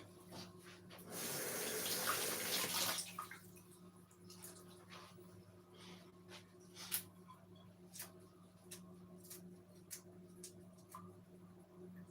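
Tap water runs in a sink for about two seconds as fresh green herbs for a classic lasagne are rinsed, followed by scattered drips, small handling taps and a low steady room hum.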